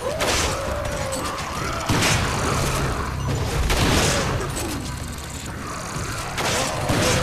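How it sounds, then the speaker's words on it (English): Rapid bursts of gunfire and heavy booms ring out in Resident Evil 5 co-op combat, including sniper rifle shots, with sharp repeated impacts, mechanical reload clicks and crashes layered over one another, loud and busy throughout. "I nailed him in the groin with the sniper rifle"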